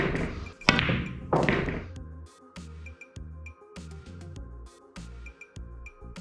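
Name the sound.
pool cue ball shot with low left spin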